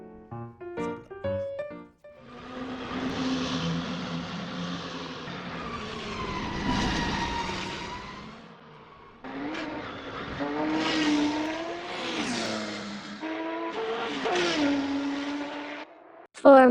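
A race car engine in the Assetto Corsa racing simulator, loud, revving up through the gears in long sweeps with brief lifts between pulls, close and alone.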